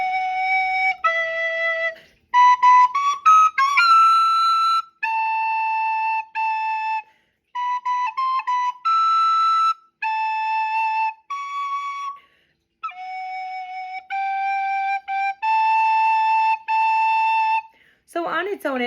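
Tenor recorder playing the interlude between verses of Ode to Joy, a series of clear, breathy sustained notes in short phrases with brief gaps, played alone and close with no talking.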